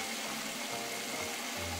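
Running tap water pours steadily into a sink, with a shaving brush held under the stream while preparing a wet shave; a continuous broadband hiss with no voices.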